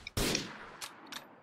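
A sniper rifle fires in GTA IV, one sharp loud crack with a short decaying tail, followed by two fainter bursts of noise.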